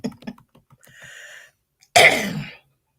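A person gives one sharp, explosive cough that trails off into a raspy exhale, preceded by a few faint clicks and a soft hum in an otherwise quiet room.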